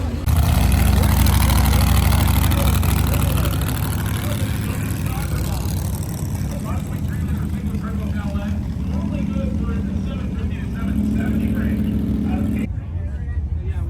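Loud, steady engine drone from a car having boost controller problems, running continuously at close range with a low rumble, while people talk over it throughout.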